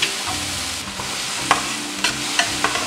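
Tomato and white onion sauté in a hot pan, a steady frying hiss with a few sharp stirring clacks of a utensil against the pan, close and moderately loud, no voices.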